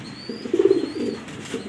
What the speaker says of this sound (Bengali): এখানে আসলে অনেকগুলো আনকমন কবুতর আছে